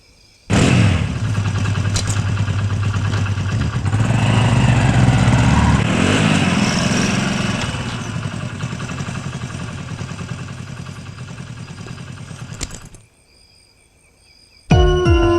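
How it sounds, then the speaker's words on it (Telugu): Motorcycle engine running loud and steady at close range for about twelve seconds, with a mechanical clatter at the start, then cutting off abruptly before a brief new burst of sound at the end. "నో ఇట్స్ ఓకే, బైక్ మీదే వెళ్దాం."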